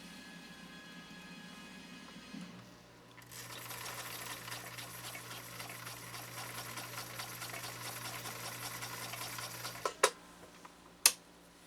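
A 1960 Viking Husqvarna CL-21A sewing machine runs a long straight stitch in one steady, continuous whirring stretch of several seconds, closed by a couple of sharp clicks.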